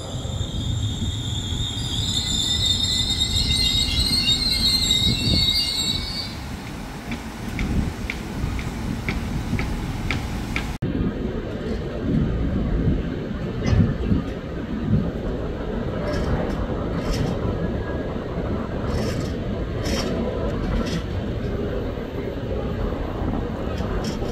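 A KRL Commuter Line train rolling through Manggarai station, Jakarta, wheels squealing high at first, then a steady rumble with rhythmic clicks over the rails, and talking mixed in.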